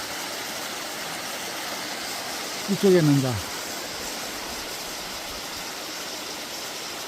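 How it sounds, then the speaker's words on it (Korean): A winter waterfall in a mountain valley beside a temple pours in a constant, broad rushing roar that fills the whole clip, with a brief spoken remark near the middle. "폭포수가 쏟아져 있죠"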